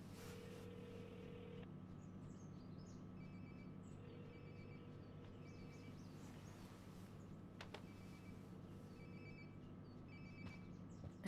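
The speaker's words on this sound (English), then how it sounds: "Sounds like my phone is definitely nearby." A phone rings in repeated electronic trills in Life is Strange: Before the Storm, heard faintly over a quiet ambient hum with soft chirps in between.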